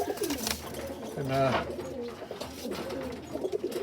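Pigeons cooing nearby, soft throaty coos repeating over outdoor background noise, with a brief spoken word at the start.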